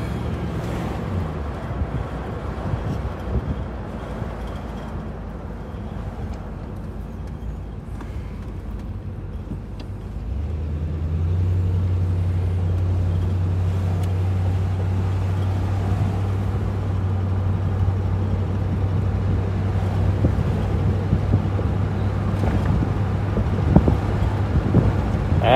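A 1975 Pontiac Grand Ville Brougham cruises around the block, its low engine drone steady under wind and road noise, deepening and growing louder about halfway through as the big car picks up speed.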